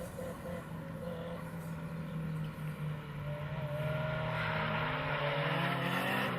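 Drift cars on a race track at Mineral Wells, engines droning and revving as they slide through a corner, growing louder and closer over the final seconds.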